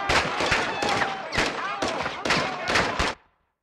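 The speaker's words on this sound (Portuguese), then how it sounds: "Watcher 1, eles estão atirando." Bursts of enemy gunfire in Call of Duty Modern Warfare 2 (2022), several loud volleys in quick succession, close and sharp, ending abruptly into silence.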